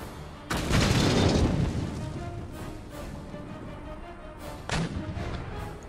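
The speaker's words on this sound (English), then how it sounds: "Howitzers continuing to engage the adversary on the hill." Howitzer fire in the Empire Total War battle game, two heavy booming blasts a few seconds apart, each rolling into a rumbling decay over quiet battlefield ambience.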